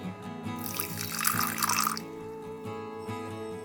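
Water is poured from close by onto poppy seeds, green chillies and a little salt, making a brief splashing trickle that peaks midway and fades into quiet dripping.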